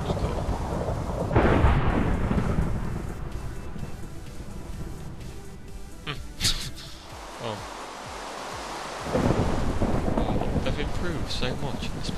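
Minecraft thunderstorm with rolling thunder claps and steady rain during a lighthouse build, loud crashes rising and fading over continuous rain hiss, near and alone without talk.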